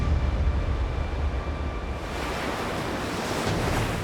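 Huge ocean waves crash and roar at Nazaré, a continuous wash of surf mixed with gusting wind noise on the microphone.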